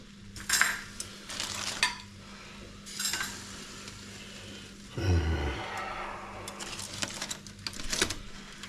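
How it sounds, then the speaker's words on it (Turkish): Metal tongs clink and scrape against a pan as oven-cooked beef ribs are lifted, several sharp clatters over a faint sizzle. "Elimizi yakmadan şunları da maşayla alalım."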